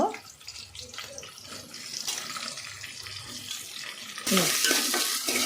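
Curry leaves and green chilies crackle and sizzle in a hot pan with a steady, busy frying hiss that swells into a louder, brighter spatter near the end; no voice is heard.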